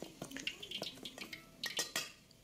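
A spoon scrapes and clinks against a bowl while stirring crispy oyster mushroom frying batter, a quick irregular series of faint, close knocks and taps with a soft wet swish beneath.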